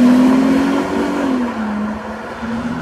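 A 2007 Mercedes-Benz S350 accelerating hard from standstill toward 100 km/h, its engine drone loud and close, with the pitch easing briefly mid-run as if through a gear change before steadying again.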